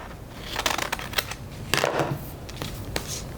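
Scissors cutting a fabric square for a sewing project: a few quick crisp snips and rustles at close range, with fabric handling between the cuts.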